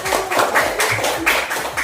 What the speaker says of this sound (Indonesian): Oke, kita berikan tepuk tangan yang meriah bagi kelompok 1.